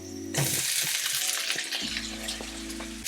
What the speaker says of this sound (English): Some sesame oil, a little bit of garlic and some ginger. I will fry them for about 30 seconds on a medium heat.